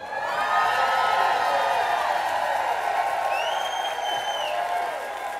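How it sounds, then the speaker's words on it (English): An employee service day audience gives a rousing round of applause, with a broad, sustained wash of clapping and some cheering and whoops, moderately loud and continuous. "let's do a rousing round of applause"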